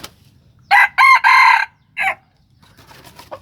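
A fighting rooster crows close and loud, giving a few sharp, choppy bursts one after another and then a shorter final call, with quiet rustling between the calls.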